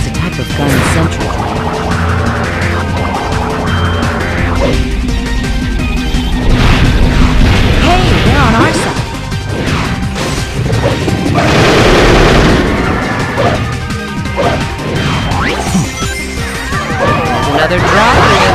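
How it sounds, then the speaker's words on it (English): Loud crashing firework booms from a red sentry block burst out amid dense, busy game sounds in Shadow the Hedgehog, with a voice talking over the chaotic mix. "That red block is a firework designed to ward off intruders."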